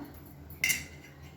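A single metal utensil clinks once against a cooking pot while pakoda curry is stirred, one brief sharp knock in otherwise quiet surroundings.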